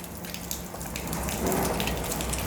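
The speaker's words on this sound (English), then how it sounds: "I went out for a stroll in the rain," Rain falls outdoors during a morning hike in Croatia, a dense, continuous hiss of droplets that stays steady and fairly loud throughout, with a slight swell partway through.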